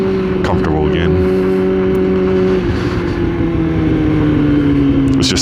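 Yamaha R6 motorcycle engine running steadily while riding, a loud continuous drone with a falling pitch and wind noise, with a voice talking over it.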